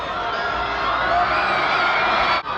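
A dense, noisy crowd of fans shrieks and cheers continuously at a Beatles reception in New Zealand, loud and sustained with no pauses.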